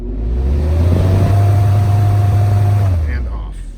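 An electric fan motor run up to full speed, recorded right up against the motor: a loud, steady low hum with a faint whine above it for about three seconds, then winding down toward silence.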